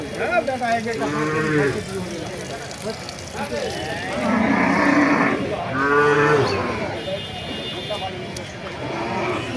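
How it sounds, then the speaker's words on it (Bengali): Cattle at a rural livestock market in Thakurgaon, Bangladesh, letting out several long, loud moos close by in repeated bursts, with people talking in the background throughout. "প্রিয় দর্শক দেখেন ভ্যারাইটিস গরু"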